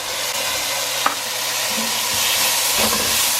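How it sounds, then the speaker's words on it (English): Ginger garlic paste fries with curry leaves and pepper in hot oil for a Kerala-style chicken curry, a loud, steady sizzle with a few stirring clinks, close up and without voices. "And I'm gonna add the ginger and garlic paste."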